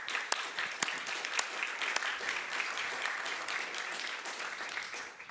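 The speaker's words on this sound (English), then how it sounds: "The sound is loud and clear there in Ukraine for the applause you're hearing" Sustained audience applause at a conference session on European leadership, a dense, steady wash of many hands clapping with a few sharper claps standing out, fairly loud and continuous throughout before easing slightly at the end.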